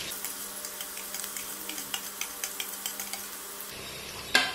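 Chopped garlic and ginger sautéing in a pan for a Kerala-style beef curry, with a steady soft sizzle and light rhythmic ticks of a utensil stirring against the pan, fairly close, ending with a brief louder clink.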